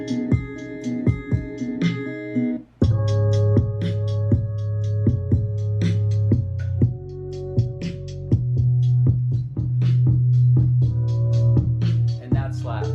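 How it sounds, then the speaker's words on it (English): A reworked 808 beat plays: a new 808 bass pattern with a sampled kick and snare layered on top of the loop. The hits are loud, punchy and repeat steadily throughout, alone with no talk. "I rewrote the 808 pattern, used a different sample, and then I also sampled a snare and a kick to add on top of that loop."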